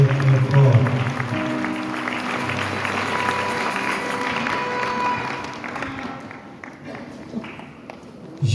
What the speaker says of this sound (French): On acclame le Seigneur très très fort.